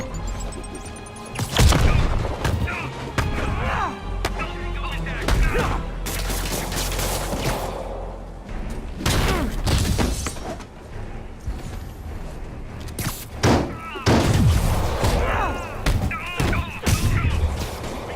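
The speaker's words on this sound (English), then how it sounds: "Tossing grenade." Grenade blasts and heavy booms from the video game Marvel's Spider-Man, a series of loud, dense explosions and crashes with rumbling impacts spread across the whole stretch, alongside game effects.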